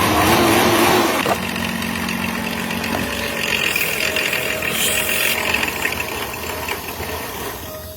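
A Mercedes-Benz car engine running with the engine visibly moving too much, up close during a front brake and rotor job: a steady, loud idle hum with slight knocking texture, no voices.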